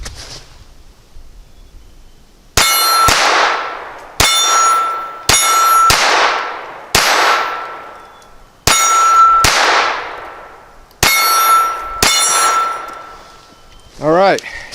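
Ruger LCP II .22 pistol firing CCI rimfire ammunition: eight sharp, loud shots in irregular pairs and singles, each with a ringing metallic tail, then a brief warbling tone at the end.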